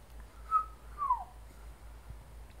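A person whistles a couple of short, soft sliding notes, faint and somewhat distant against a quiet background.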